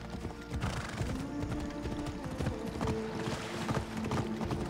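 Horse hooves clip-clop in a steady galloping rhythm in Assassin's Creed Odyssey, with a neigh partway through, loud and continuous over game ambience, with no talk.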